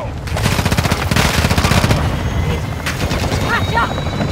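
Automatic gunfire in a Call of Duty battle crackles in dense rapid bursts for the first two seconds, then continues as a scattered, echoing exchange under faint voices.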